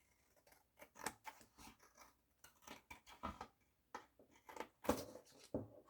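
Scissors snip through paper repeatedly in short, irregular crunching cuts, close up and fairly quiet, with brief pauses between strokes.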